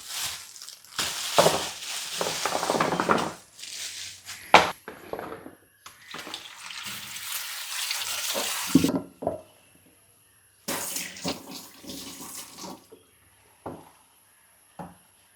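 Running tap water splashes over gooseberries being rinsed by hand, in bursts with short pauses between, close and fairly loud.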